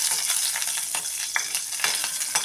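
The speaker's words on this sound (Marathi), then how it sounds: "बघा आता मिरची एक मिनिटभर आपण परतून घेऊया" Sliced green chillies sautéing in hot oil for a moong dal dhokla tempering, a close steady sizzle broken by soft scraping stirs, with no talk.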